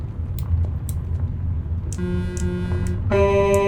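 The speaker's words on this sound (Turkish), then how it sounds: "Şöyle de bir de havalı korna ekledim tır alırken." A loud truck air horn in Euro Truck Simulator blasts twice, a short toot then a longer sustained blare, over a constant low engine rumble.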